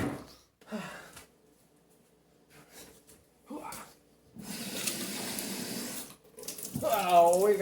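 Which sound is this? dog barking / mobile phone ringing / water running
water running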